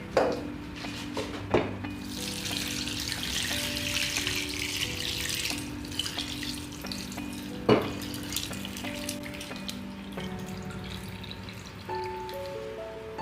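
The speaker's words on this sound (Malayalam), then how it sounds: "നമ്മൾ നേരത്തെ സ്ട്രെയിൻ ചെയ്ത് വെച്ച സ്റ്റോക്ക് ഒഴിച്ചു കൊടുക്കുക" Strained chicken stock poured from a pot over arranged rice for chicken maqluba, a steady close-up liquid pour with a few clinks of utensils against the cookware.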